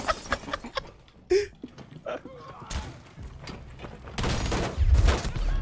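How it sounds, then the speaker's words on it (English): Gunfire in Rainbow Six Siege, a mix of sharp shots and thuds with a sudden dense burst near the end, heard amid game noise. "they're shooting at James"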